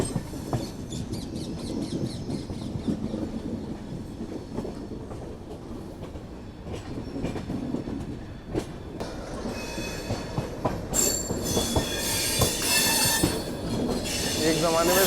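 The 12716 Sachkhand Express runs along the rails toward New Delhi, with a loud close rumble, rhythmic clicking wheels and metallic squeals, louder toward the end, while a voice speaks over it.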